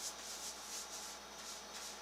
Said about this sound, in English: in between each coat, it will be rubbed out with 2000 wet dry sandpaper